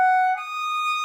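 A clarinet high note overblown by pushing too much air, giving a shrill, strained, siren-like tone that holds steady for about a second, loud and alone.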